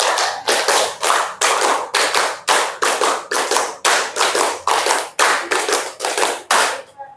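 A classroom of students claps in unison, a short series of crisp, evenly spaced claps repeated across the stretch, loud and close with no talk over it.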